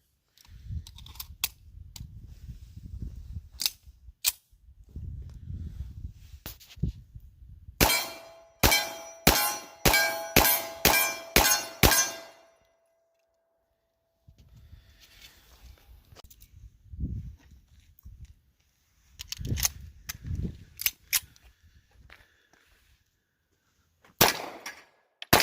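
A Remington R1 Commander 1911 pistol in .45 ACP fires steel-case ammunition from a Ruger magazine outdoors, a rapid string of about eight sharp, loud reports with a pause before the last shot, with quieter handling noises between.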